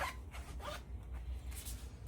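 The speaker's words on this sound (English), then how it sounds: "Zip this up." A zipper being pulled up on a high-visibility safety vest, two or three quick rasping zips close by over a steady low background hum.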